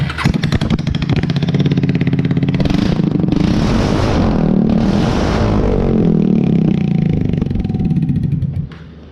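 A used motorcycle, around 250 cc with a racing exhaust, fires up and runs loud and close, with a rough, throbbing idle, a few blips of revving and a mechanical clatter before cutting off at the end.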